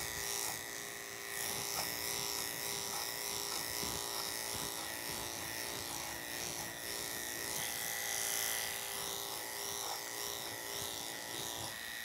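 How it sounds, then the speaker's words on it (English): Wahl KM5 electric clipper running steadily on a Labradoodle during grooming, a continuous close buzzing whine with slight variations in pitch as it moves through the coat. "There's two speeds to this clipper."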